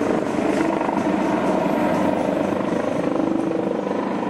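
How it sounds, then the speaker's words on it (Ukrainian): New French military helicopters fly overhead with a loud, steady rotor roar and engine drone that holds through the whole stretch, after taking part in the capital's Independence Day parade and flying over Oleksandriia. "У цьому році ми разом з військовими випробували нові французькі гелікоптери."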